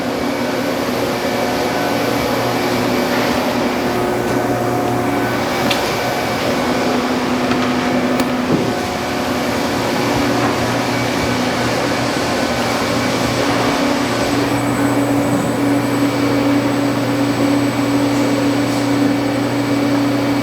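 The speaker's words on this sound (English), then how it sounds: "today we'll be cycling your BMI 240-inch long conveyor" A BMI 240-inch table top conveyor on 3-phase 240 volts runs with a continuous, even mechanical hum and whir, close by and steady throughout, with no talking.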